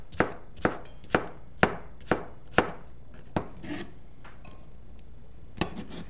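De-seeded cucumber is diced on a board with a knife, a steady run of about seven crisp, evenly spaced chops, then a pause and one more cut, close and clear with no talking.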